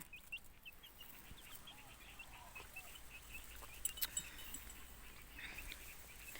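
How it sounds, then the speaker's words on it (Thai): Faint clucking from chickens in the distance, soft scattered calls over steady outdoor background noise. "ขออนุญาตไล่ไก่ก่อนเด้อค่ะ"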